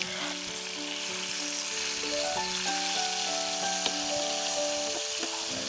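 Food sizzles and crackles steadily in a home kitchen pan, a continuous close frying hiss with a faint tonal hum running beneath it, no voices.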